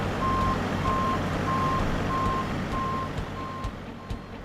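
Steady, evenly spaced reversing beeps from a truck at an egg farm repeat about once every half second over a loud, continuous engine rumble close by.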